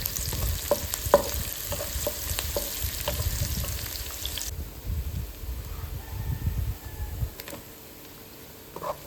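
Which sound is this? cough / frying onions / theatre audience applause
frying onions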